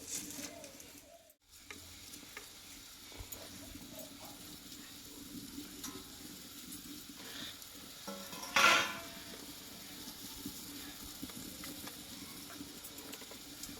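Water with jackfruit seeds starting to boil in a pot: a low, steady hiss and soft bubbling simmer, quiet and continuous, with one brief louder clink of a utensil midway.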